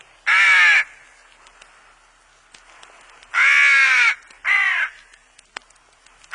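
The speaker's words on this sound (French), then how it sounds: "Ce sont peut-être des corneilles noires." Three loud, harsh caws from carrion crows passing overhead, the first and second drawn out, the third shorter, separated by quiet gaps with faint outdoor ambience.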